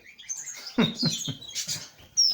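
Pet birds chirping near the microphone, with several short bursts and high tweets and a sharp final chirp across a couple of seconds.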